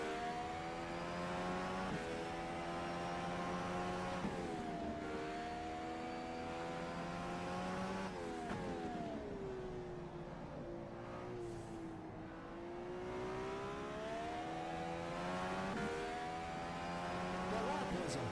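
An Indycar engine screams through gear changes in rFactor 2 at Mid Ohio, its pitch rising and falling steadily over braking and acceleration, loud and continuous, with a voice talking over it.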